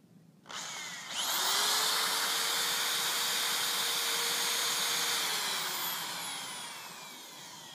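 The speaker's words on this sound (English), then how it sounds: "Now whenever you're drilling, especially through hardwood, it's best to, sort of let the drill eat through the wood" Power drill boring a pilot hole through hardwood for a chicken coop build, a sudden steady high whine that holds loud and close for several seconds, then slowly winds down, with no talk.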